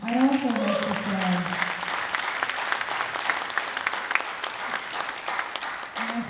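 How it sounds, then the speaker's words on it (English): Audience at a school board of education meeting gives a round of applause, steady dense clapping that follows a speaker's voice at the start and fades slightly toward the end. "So I'd like to give them a round of applause again"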